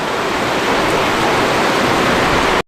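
Heavy rain pours steadily in the Philippines during an overcast, all-day downpour, a dense, loud, unbroken hiss with no talk, cutting off abruptly at the end.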